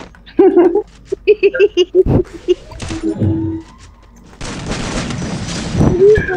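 M10 gunfire in Garena Free Fire: a quick burst of rapid shots, then heavier booming fire and a sustained noisy stretch of gameplay, mixed with excited talking.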